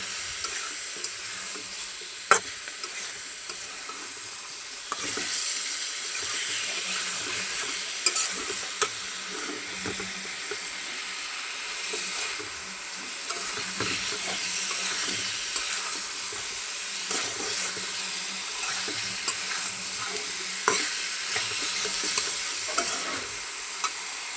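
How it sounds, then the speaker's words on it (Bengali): Cauliflower and flat beans fry in a pan with a continuous close sizzle, broken by scattered scraping and clicking stirs, and no talk throughout. "এখন আমি এই যে ফুলকপি আর সিমগুলি ভালো করে বাইজে নিতেছি।"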